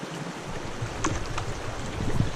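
Feet step into a cold stream during a hike in the Gila Wilderness, with close splashing and sloshing over steady flowing water and no talk.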